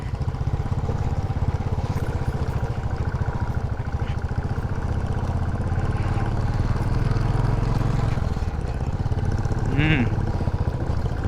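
A motorcycle engine labours steadily up a rocky, stony mountain road on Sach Pass, with continuous close engine drone and a brief horn-like tone near the end.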